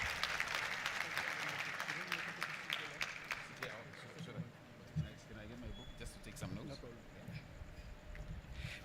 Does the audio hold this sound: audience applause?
yes